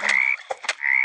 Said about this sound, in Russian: Ребята, тут уже лягушки.